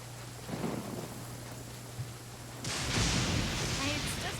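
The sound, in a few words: thunder from lightning in the video game Genshin Impact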